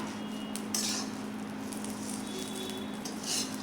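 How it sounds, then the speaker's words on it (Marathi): Sliced okra is stirred into masala in a pan, giving soft wet patter and light scraping of a utensil against the pan over a steady hiss, with no one talking. "ही भेंडी आपण या मसाल्यामध्ये सुरुवातीला मिक्स करून घ्यायची आहे व्यवस्थित"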